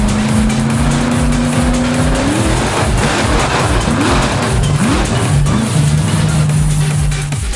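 A blown alcohol-fuelled show truck engine making 1,800 brake horsepower roars loud and steady at close range, with rising and falling revs throughout and no talk over it.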